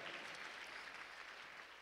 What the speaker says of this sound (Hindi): जोरदार तालियों के साथ एक बार हम सब महाराज जी का अभिवादन करें, अभिनंदन करें।